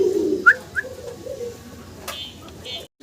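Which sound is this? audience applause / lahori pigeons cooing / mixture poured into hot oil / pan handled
lahori pigeons cooing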